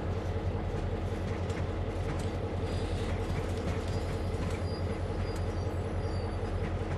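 Train rolling along the Northeast Corridor in Train Sim World, a steady loud low rumble and drone with faint rail clatter running continuously without pause.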